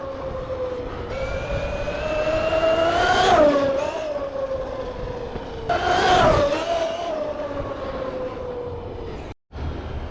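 A Traxxas Sledge RC truck runs fast on a street, its high electric motor whine rising and falling through two loud acceleration bursts near the middle, with a brief cut near the end.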